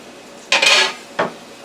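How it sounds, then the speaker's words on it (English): Two quick, bright clatters sound as apple wood bacon is dropped into a cooking pan, one longer scrape followed by a shorter clank, both close and fairly loud over a quiet background. "Okay, so now I'm going to put the bacon in."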